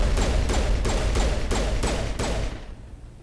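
Rapid gunfire from a weapon in Mass Effect Legendary Edition, six evenly spaced loud shots in a steady rhythm that fade into a quiet tail.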